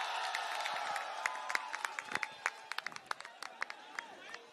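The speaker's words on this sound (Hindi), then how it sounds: "जोरदार तालियां हो जाए सर के लिए" A crowd at a political rally at Jantar Mantar breaks into applause, with a wash of cheering and scattered sharp claps that thin into individual hand claps toward the end, heard from within the gathering.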